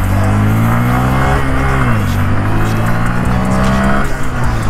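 A 2022 Honda Grom fitted with a 14-tooth front sprocket accelerates hard during a top speed run, its engine droning loud and steady with rising pitch and a brief dip at a gear change.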